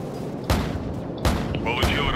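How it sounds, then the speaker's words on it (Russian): Gunfire in the video game Call of Duty 4: Modern Warfare, where three heavy booming shots land about a second apart, each a loud burst over a constant rumbling background. "Открыть по нему огонь."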